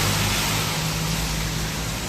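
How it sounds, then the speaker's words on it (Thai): Rain falls at a Thai street food stall selling sea bass rice soup: a close, even hiss of rain over a low hum, steady for a couple of seconds. "วันนี้ฝนตก ชมบรรยากาศฝนตกไปด้วยนะฮะ"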